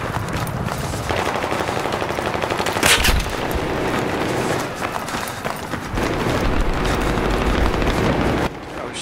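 Rapid automatic gunfire in the video game Battlefield 3 on a multiplayer map, dense bursts of machine-gun shots with a few louder blasts, continuous and close throughout.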